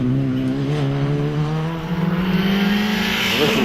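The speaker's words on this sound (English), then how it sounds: "A little Skoda Fabia RS rally car" A Skoda Fabia RS rally car races up a hillclimb course, its engine note climbing steadily in pitch as it accelerates, loud and close with no voices over it.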